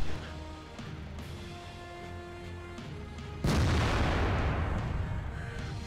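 A tank gun fires in the World of Tanks video game, a sudden loud boom that rolls into a sustained broad rumble over steady engine drone.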